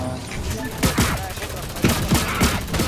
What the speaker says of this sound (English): I'm gonna have to shoot you.